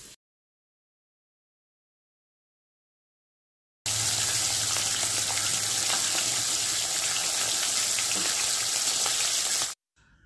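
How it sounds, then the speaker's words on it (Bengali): Rohu fish pieces fry in hot oil for a poppy-seed curry, giving a loud, continuous sizzle that starts abruptly after silence and runs for about six seconds before cutting off. "তো এখানে তেল গরম হয়ে গেছে আর এই দেখো মাছগুলো আমি ভাজতে দিলাম।"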